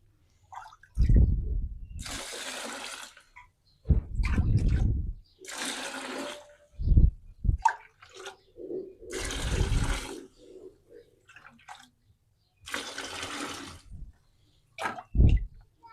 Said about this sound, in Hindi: इसको हमने पानी डाल दिया